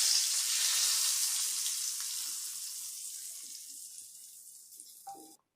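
Hot tadka tempering poured over dal in a home kitchen, a loud hiss and sizzle at first that slowly fades over several seconds, ending with a faint clink before cutting out.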